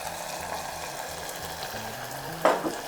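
Water poured into a sauce of rice vinegar, soy paste and garlic pepper seasoning in a hot pan gives a steady low sizzle, then a sudden sharp hiss and splash near the end.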